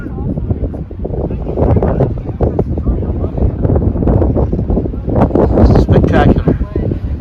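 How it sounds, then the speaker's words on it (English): Strong gusting wind buffets the microphone on a hiking trail near Amarillo, Texas, roaring and rumbling steadily throughout, with a person talking underneath it. "Although the wind is unbelievable, unbelievable."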